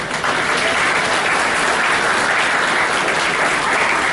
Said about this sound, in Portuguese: Você não dá nem a salva de palmas